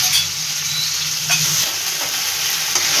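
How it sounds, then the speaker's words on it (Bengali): Dried red chili and ground mustard paste fry in hot oil in a pan, giving a steady, close sizzle with a few faint stirring scrapes and no voices. "এটা লাল লাল করে এখন ভেজে দেবো এরই সঙ্গে।"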